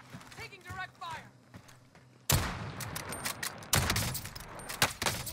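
Loud bursts of automatic gunfire from a Call of Duty match with an MP7, erupting suddenly after quieter game chatter and radio callouts, with dense repeated shots continuing to the end.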